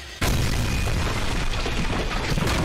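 A heavy gun blast from a Skibidi Toilet animation bursts in loud and sudden, then rolls on as a dense, roaring wash of noise with no talking over it.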